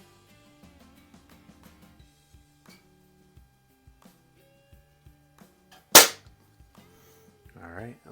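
A Crosman 1701P air pistol fires a single loud, sharp pellet shot from a tripod rest, preceded by faint ticks and light handling noises, with a short burst of movement afterward.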